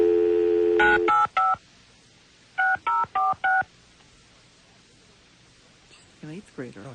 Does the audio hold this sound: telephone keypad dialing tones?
yes